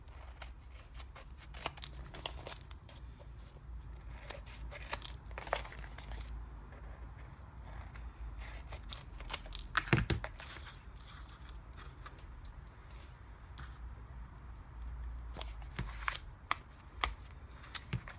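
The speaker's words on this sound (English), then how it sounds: "we're going to take our scissors and we're going to go about a scissors width apart and cut on the diagonal and snip off all 4 corners" Scissors snipping the corners off paper during book making, a series of crisp, close cuts in an irregular rhythm with small paper rustles between them.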